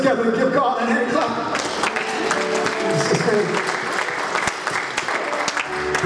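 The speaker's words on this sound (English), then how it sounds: "Put your hands together and give God a hand clap." A church congregation claps together in a lively, dense burst that carries on steadily, with voices and some tonal music sounding alongside.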